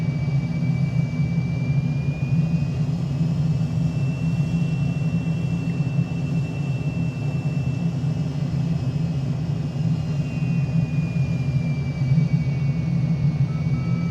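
F-35 jet engine in a flight simulator game, a steady low droning roar with a thin high whine that slowly rises and falls in pitch, continuous and even throughout, no voices.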